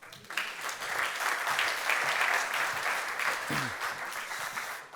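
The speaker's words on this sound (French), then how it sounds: "On peut les applaudir bien fort." Enthusiastic audience applause, a dense crowd of clapping that swells quickly and holds steady before tapering off, with faint voices underneath.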